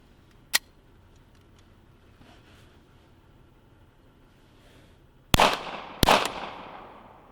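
Gunshots fired at a target through a car windshield: one sharp crack early, a long quiet stretch, then two loud close shots about a second apart near the end, each with a short ringing tail.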